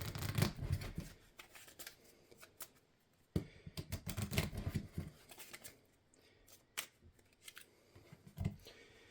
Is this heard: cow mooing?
no